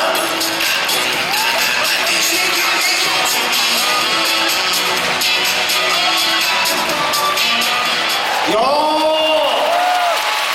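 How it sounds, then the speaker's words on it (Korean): Applause and cheering from a crowd at a Korean pro volleyball warm-up, Korean Air Jumbos against the Skywalkers, held steady and loud throughout under voices and a tonal, music-like background, swelling slightly near the end. "박수 한번 주시겠습니까?"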